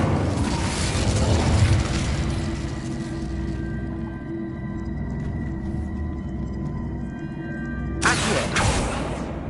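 A fiery spell cast in the game Hogwarts Legacy gives a loud, sustained roaring whoosh with dense burning crackle, easing off midway and then flaring again in a second burst near the end.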